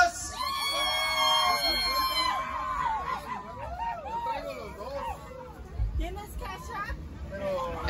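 A crowd of partygoers at a baptism celebration in San Miguel Cuevas, Oaxaca, shouts and cheers loudly and continuously, with high-pitched women's and children's yells rising over dense chatter and some music.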